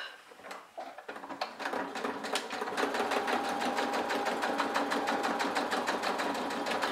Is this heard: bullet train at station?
no